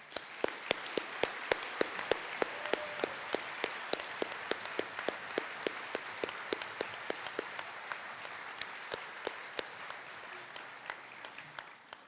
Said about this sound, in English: I would like also to applaud Magnus and Alicia as well